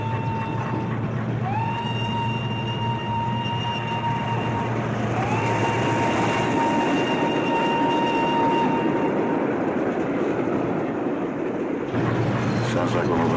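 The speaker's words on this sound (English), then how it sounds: "Sounds like we're moving along with the train." Steady low rumble of a moving train carriage with a continuous hum and rattle; a voice speaks over it and two rising whine-like tones appear.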